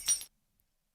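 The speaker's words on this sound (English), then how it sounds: "glass break," A single brief, bright crash of glass, sharp and high-pitched, cutting off quickly into silence.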